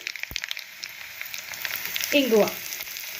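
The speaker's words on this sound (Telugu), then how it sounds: "వేసేసుకుని ఇప్పుడు నేను పోపు వేసేసుకుంటాను." Mustard seeds, cumin, dried red chillies and garlic hit hot oil with a sudden burst of sizzling and crackling that then settles to a steady frying hiss, heard up close and fairly quiet.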